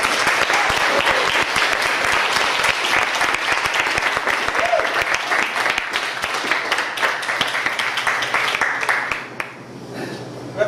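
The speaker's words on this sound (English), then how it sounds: "a huge screaming round of applause for Mr." A large crowd breaks into loud, sustained applause with cheering, a dense steady wash of clapping that holds for about ten seconds before tapering off.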